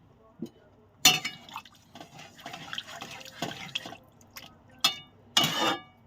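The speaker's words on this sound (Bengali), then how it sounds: "একটু জল ঢেলে দেবো এবারে, যতটা পরিমাণ ঝোল খাবে" Water poured into a Bengali fesa fish curry with potato and eggplant splashes in short, uneven bursts, with a couple of louder pours and light clinks between them.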